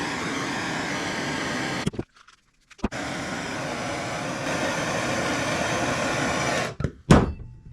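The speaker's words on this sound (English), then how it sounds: "we're just gonna try to heat this one up with the blowtorch" A blowtorch heats a metal wire for bending while making catfish juglines: a loud, steady roaring hiss runs continuously, drops out for about a second, resumes, then ends with a sharp burst near the close.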